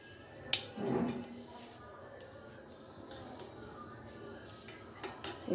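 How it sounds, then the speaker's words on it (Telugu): A knife clinks against a plate while slicing caramel bread pudding, with a sharp tap near the start, soft cutting in between and a few more light clicks toward the end. "దీన్ని మనము స్లైసెస్గా కట్ చేసుకొని"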